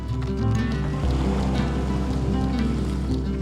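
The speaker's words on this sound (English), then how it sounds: "It is a bit windy" Strong, blustery wind roars continuously, buffeting with a heavy low rumble, with a wash of open water beneath it.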